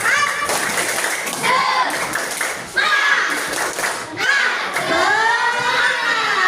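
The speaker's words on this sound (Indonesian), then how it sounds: "Tepuk tangan dah. Tepuk tangan." A classroom of children claps at the end of a coding and AI lesson, bursts of hand claps broken by short pauses, with kids chanting and talking loudly over the clapping.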